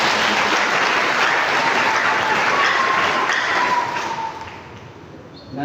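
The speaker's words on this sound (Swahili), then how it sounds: "Naomba tumpigie makofi" Audience at a church gathering claps loudly and steadily for several seconds, the applause thinning and fading out toward the end.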